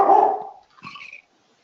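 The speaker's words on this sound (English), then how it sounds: "Sorry about my dog." A pet dog gives two quick barks, the first louder and fuller, the second shorter and thinner, close to the microphone in a quiet room.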